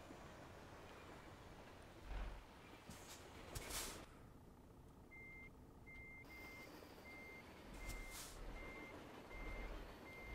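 Reversing beeps from a truck in Euro Truck Simulator 2, a steady series of evenly spaced electronic beeps over a low engine drone with occasional air brake hisses.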